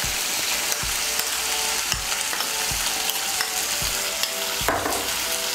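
Mustard paste and green chili paste fry and get stirred into tomato in a pan for a Bengali potol (pointed gourd) dish, giving a steady close sizzle broken by regular scraping strokes of the spoon.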